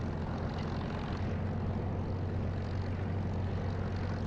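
A Spitfire's engine in a combat flight simulator game drones continuously, a loud steady propeller roar with a pronounced low throbbing pulse, heard alone without speech.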